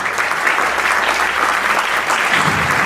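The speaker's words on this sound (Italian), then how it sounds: "Io farei un applauso a questa nostra melodia, se siete d'accordo." Loud, sustained applause from the audience at the Città di Verona literary prize award ceremony, a thick, even wash of many clapping hands with no break throughout.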